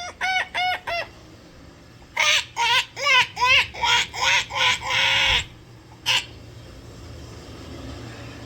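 A person imitates a goose with a run of loud, nasal honking calls, first a quick trio of short honks, then a longer burst of about eight rhythmic honks and one final honk, heard up close with no other voices.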